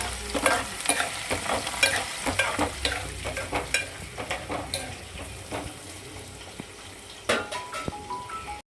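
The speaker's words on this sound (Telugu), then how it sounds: "ఎండిమిరపకాయలు ఉల్లిపాయ ముక్కలు పచ్చి శనగపప్పు మినపప్పు కూడా వేస్తున్నాను అన్నీ మంచిగా ఫ్రై కానివ్వండి" Dried red chillies, chopped onion, chana dal and urad dal fry together in oil for a mint chutney, sizzling steadily up close while a spoon stirs and scrapes the pan in frequent strokes.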